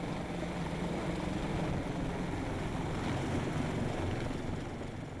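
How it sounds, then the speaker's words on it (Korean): A rescue helicopter hovering in place gives off a loud, steady rotor and engine roar that stays close and constant throughout, with no voices. "헬기는 제자리 비행을 계속한다."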